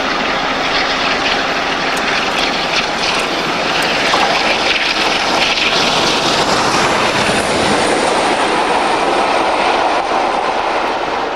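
A Peak class diesel locomotive on a test run along the North Wales coast roars past loudly and close, with continuous wheel rumble, clickety-clack and some squealing over eleven seconds.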